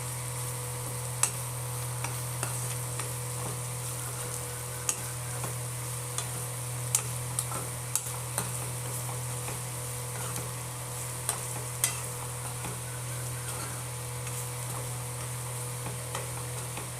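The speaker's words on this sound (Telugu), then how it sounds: "చూడండి, బాగా ఎర్రగా వేగిపోయినాయి" Prawns frying with chilli powder and garam masala in a pan, a steady low sizzle with occasional light ticks of a spatula over a constant background hum.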